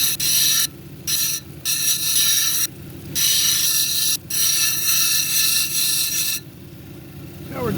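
A red velvet agate cabochon dome grinds against a lapidary wheel in a steady, loud, continuous whine, broken by several short gaps where the stone is lifted off and pressed back on.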